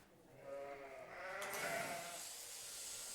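A domesticated sheep gives one drawn-out wavering bleat, fairly faint and set in a quiet background.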